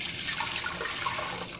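A steady stream of water, three cups for gelatin, pours from a tap into a cooking pot, a continuous close splashing hiss with no talk.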